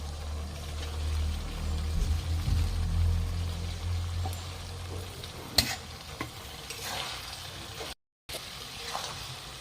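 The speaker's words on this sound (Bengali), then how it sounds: "শাকটা ভালো করে কষিয়ে নিয়েছি মাংসের সঙ্গে" Malabar spinach being stir-fried with beef in a pan gives a steady, close sizzle with stirring scrapes and a brief sharp clank, running on without any talk.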